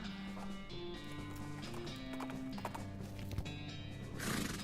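Galloping horse hooves in the video game West of Loathing, a steady rapid clip-clop over game music with a whinny, fairly quiet and close, no talking.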